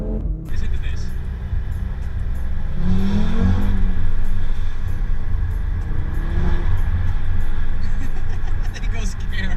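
A loud 400 bhp Audi RS3 rumbles and revs up close in a dense, continuous engine roar that swells twice, with a few voices underneath.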